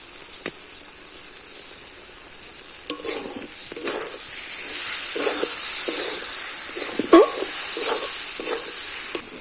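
Spices frying in a pan for a jackfruit and prawn curry sizzle steadily, with a spoon scraping and stirring in short bursts and occasional sharp clinks against the pan, no voices present.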